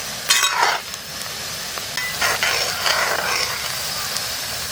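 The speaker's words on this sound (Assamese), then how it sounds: "এতিয়া পিঁয়াজখিনি বঢ়িয়াকৈ মৰমূৰে আগলৈকে ভাজি থাকিলে হ'ল" Onions frying in oil for mutton korma, cooked outdoors: a steady broadband sizzle runs throughout, with a few brief louder bursts near the start and middle, close and fairly loud, with no talking.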